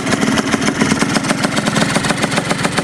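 A 1993 motorcycle's engine running steadily at close range, a continuous rough, pulsing idle with no voices.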